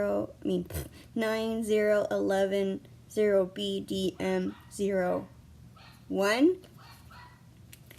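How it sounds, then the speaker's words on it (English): A young dog barks and whines intermittently indoors during a toy unboxing, its sharp yelps and higher whimpers mixed with a person talking nearby. "If you hear that barking, that's my new dog"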